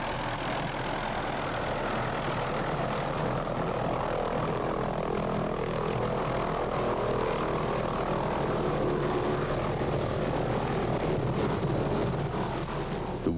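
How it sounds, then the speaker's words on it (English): A Hughes 500 medical evacuation helicopter arriving through early morning mist, a loud, continuous engine and rotor roar that stays dense and steady throughout. "the medical evacuation helicopter arrives through the early morning mist. A Hughes 500"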